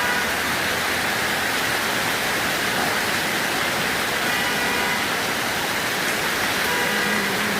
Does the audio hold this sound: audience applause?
no